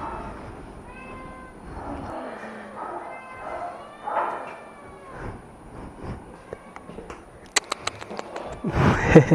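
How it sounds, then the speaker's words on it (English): Several cats meow at an animal shelter, on the side holding cats up for adoption, with overlapping cries near and far. A person talks quietly underneath, and sharp clicks and clatter come near the end. "this is just the adoptable side of the cats"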